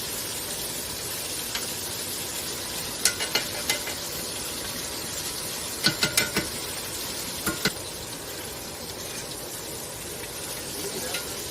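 Butter sizzles steadily in a frying pan, a close, even crackle broken by a few sharp utensil clicks partway through.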